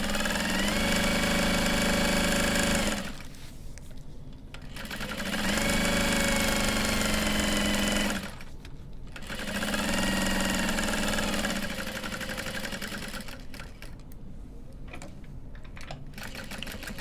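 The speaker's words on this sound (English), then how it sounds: "I'm pivoting and sewing around all 4 sides." Sewing machine stitches around a fabric handbag divider: close, steady mechanical whirring in long runs broken by short pauses where the fabric is pivoted at the corners.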